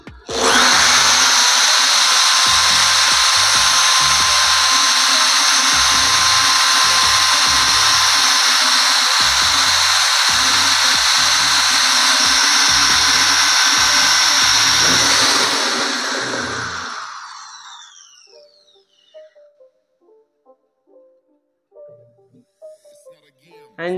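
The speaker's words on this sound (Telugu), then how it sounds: "ఇప్పుడు హోల్ అయితే వేస్తున్నాను చూడండి, ఇందాక మనం వాల్కి పెట్టిన బిట్తోనైతే హోల్ అయితే వేస్తున్నాను." An Enon electric drill bores a hole through a metal sheet with a bit, a loud steady whine with rough grinding for about fifteen seconds before cutting off, followed by faint handling clicks.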